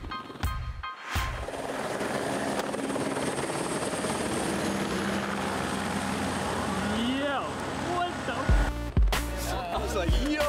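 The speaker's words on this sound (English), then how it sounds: "I've never been in a helicopter" A helicopter in flight fills the clip with a steady, loud rotor and engine drone heard from inside, with brief bumps and a few short interjected sounds near the end.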